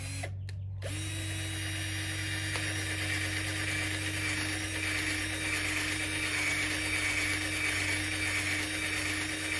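A power drill whirs steadily and loudly up close while enlarging a hole in plastic during a windshield washer nozzle relocation on a 2008-2014 Cadillac CTS, after a brief start-up.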